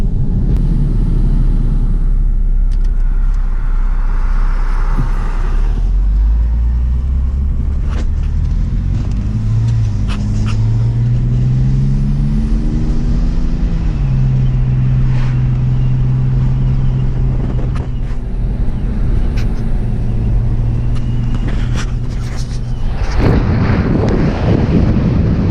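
A 2006 BMW E61 530xi wagon on ISC N1 coilovers drives a rough road, heard from inside as a loud low rumble with wind noise and an engine drone rising and holding steady, no talk.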